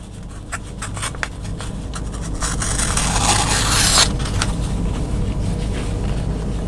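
A fresh craft-knife blade rough-cutting material for a custom 1/18 scale Christine model car, a close, continuous scraping rasp with scattered ticks that swells louder midway before easing back.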